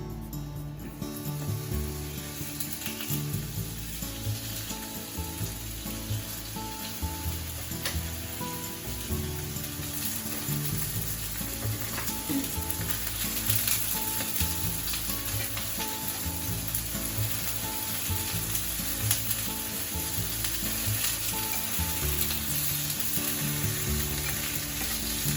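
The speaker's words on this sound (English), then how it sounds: "Just saute the chicken." Chicken sautés in vegetable oil in a frying pan, giving a loud, steady sizzle and crackle that runs unbroken throughout, close up, with no talking.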